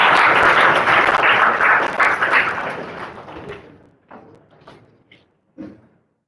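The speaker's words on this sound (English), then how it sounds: "Please give a round of applause for the entire team of Acharya." Audience applause at a Model United Nations conference at Acharya Institute: dense, loud clapping for the first three seconds that thins out into a few scattered claps and thuds before fading to near silence.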